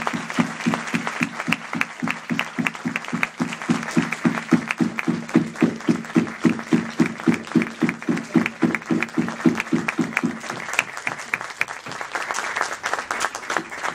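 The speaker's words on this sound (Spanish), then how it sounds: "Despidámoslo con un aplauso." An audience at an academic tribute claps in long, rhythmic unison applause for many seconds, a steady pulsing beat that thins out near the end.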